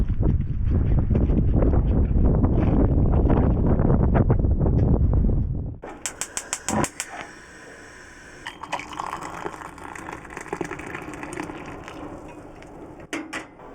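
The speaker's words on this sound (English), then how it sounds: "it's actually quite windy" Strong wind on the wild north coast of Cornwall roars and buffets close to the microphone for about six seconds, then drops away, leaving quieter gusts and faint scattered knocks.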